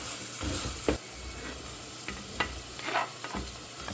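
Tomatoes tossed into onions frying in a pan, crackling and sizzling with several sharp stirring clatters spread throughout, close and moderately loud.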